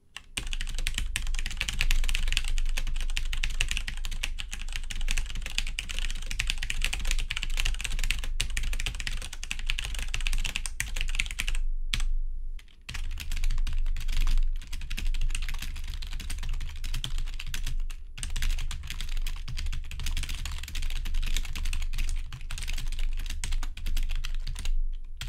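Continuous typing on a Cherry MX Board 3.0 mechanical keyboard with red switches and a Saitek Eclipse II membrane keyboard, recorded close with a condenser microphone; dense, steady clatter of keystrokes with a brief pause midway, no talking.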